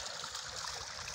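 Rain-swollen water flows into the catch basin of a homemade ram pump after a heavy downpour, a steady, soft hissing stream with a trickling texture, close by and with no talking.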